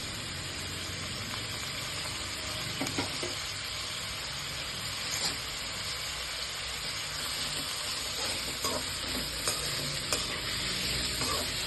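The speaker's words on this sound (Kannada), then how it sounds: "ನಾವು ಹೆಚ್ಚಿಟ್ಕೊಂಡಿದ್ವಲ್ಲ ಈ ತರಕಾರಿನೆಲ್ಲ ಹಾಕ್ಕೊಂಡು ಸ್ವಲ್ಪ ಫ್ರೈ ಮಾಡ್ಕೊಳ್ಳೋಣ" Chopped vegetables frying in hot oil in a kadai pan, a continuous sizzle with occasional stirring scrapes and small pops, steady and close.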